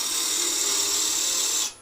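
A drill bores into a wooden Easter egg spinning on a lathe, giving a loud, steady high-pitched whirring grind that holds for nearly two seconds and then cuts off abruptly.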